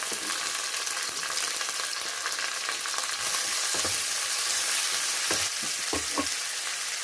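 Onion and curry leaves dropped into hot oil, making a loud dense continuous sizzle close by, with a few soft stirring knocks toward the end and no talking.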